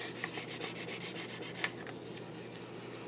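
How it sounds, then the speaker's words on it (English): A tool rubs steadily back and forth to burnish a paper sentiment onto a folio, making a soft, close scratchy swishing with a couple of light taps and no voices. "To make sure I burnish all of this down."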